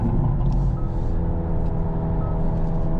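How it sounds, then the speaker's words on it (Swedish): A Hyundai Ioniq 5 N electric car plays its synthetic engine sound, a steady low rumbling drone heard from inside the cabin, holding at an even loudness without clear gear shifts. "Den här bilen har ju då fejkade växlar, eller som de säger, det är fejkat ljud"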